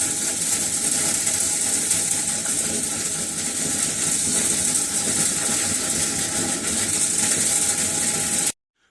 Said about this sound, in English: we're agitating and those whips are blowing it at the same time